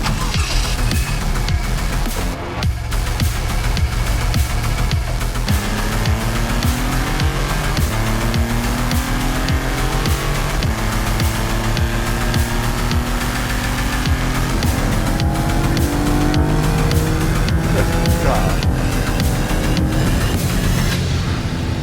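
A Maserati MC20 sports car engine pulls hard at speed, loud and continuous with rising and falling revs through gear changes, tire and road roar underneath, no talking.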